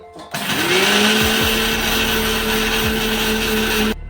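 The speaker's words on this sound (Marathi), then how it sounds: "आधी तीळ आणि खसखस ते वाटून घेते" A mixer grinder spins up and grinds sesame and poppy seeds, a loud close motor whine with a steady rising hum that runs for a few seconds, then stops abruptly.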